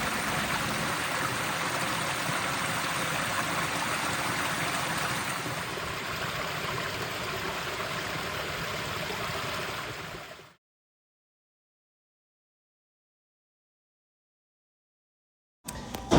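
A stream runs beside a hiking trail, an even, broadband rush of flowing water close by for about ten seconds before it cuts abruptly to silence.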